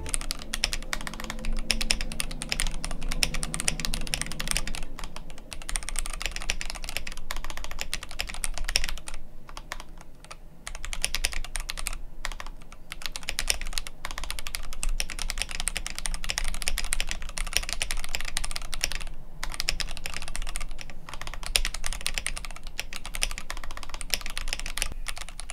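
Steady typing on an F65 Graffiti pre-built mechanical keyboard, close and continuous keystroke clatter with short pauses, no voices.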